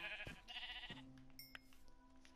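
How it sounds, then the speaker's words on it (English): Sheep in Minecraft on PlayStation 4 gives a couple of short, wavering bleats up close, followed by a faint game chime and quiet background. "Here's a sheep."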